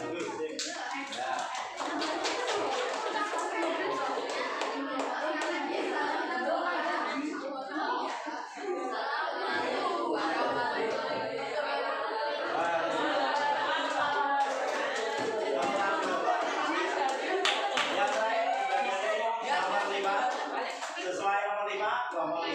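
A classroom claps for a student group. Scattered, tapping applause runs through the whole stretch, mixed with chatter and children's voices.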